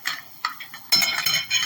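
A spoon scrapes and clinks against a pan while ginger paste is stirred into goat head curry, a few short soft strokes followed by a louder run of scraping.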